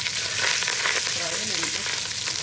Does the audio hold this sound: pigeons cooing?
no